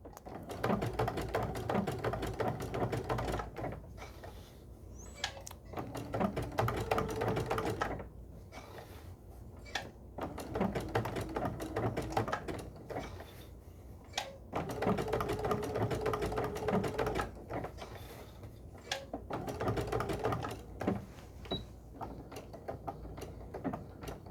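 Sewing machine stitching invisible machine appliqué, steady whirring mechanical runs that stop and restart at short intervals, moderately close, with no voices.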